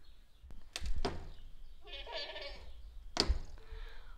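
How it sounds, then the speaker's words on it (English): A billy goat on a farm bleats twice, a few harsh wavering calls carrying near to middling distance, with knocks and rustling in the barn between them. "I do believe that's old Al, our billy goat"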